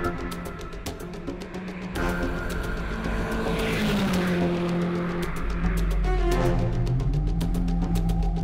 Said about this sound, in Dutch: En daar zien we hoe Henk Vuik voor het eerst losgaat met zijn Mercedes 190 DTM.